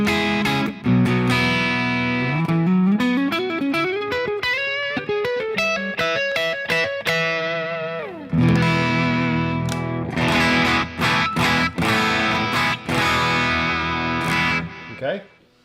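An electric guitar on its neck pickup runs through a Line 6 Helix processor, playing distorted, effects-laden phrases with rising runs and choppy chords, loud and steady before cutting off at the end.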